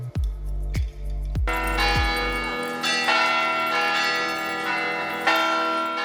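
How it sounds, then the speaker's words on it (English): Church bells at Bethesda-by-the-Sea ring out to open the annual Blessing of the Animals service, a few deep low strokes at first, then a bright ringing peal that swells and carries on alone. "church bells herald the start of the annual Blessing of the Animal service at Bethesda by the Sea"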